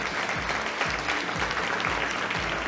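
Audience applause at a fashion show, a steady wash of many hands clapping throughout at moderate level with no voices standing out.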